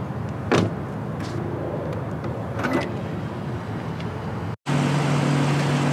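A 2018 Lexus LC500 door unlocks and swings open, giving a few soft clicks and mechanical thumps over a low steady hum, followed by a brief dropout and a louder, even background drone.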